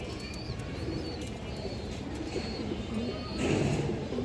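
Domestic pigeons softly coo over a low, steady background murmur, with a few faint calls scattered through and a slightly louder coo near the end. No one speaks.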